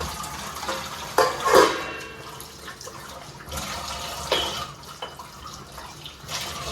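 Tap water runs during dishwashing at home, a soft continuous trickle punctuated by a few brief splashes and clatters at moderate volume.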